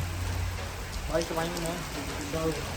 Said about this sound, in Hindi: बारिश तो अभी शुरू हुई है